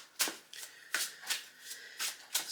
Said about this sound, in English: this is a brand new deck that is incredibly heavy, so I've got to be careful shuffling it